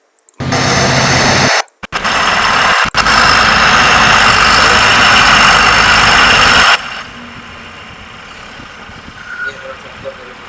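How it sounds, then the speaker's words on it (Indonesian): A motor grader's heavy diesel engine runs loud and steady at idle for several seconds with brief cutouts, then drops away to a faint low rumble. "ini adalah contoh dari motor grader"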